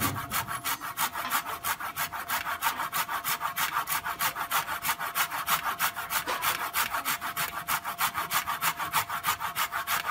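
A hand saw cuts through a guava tree branch in a steady back-and-forth rhythm, each stroke a loud, rasping pass, close by and continuous.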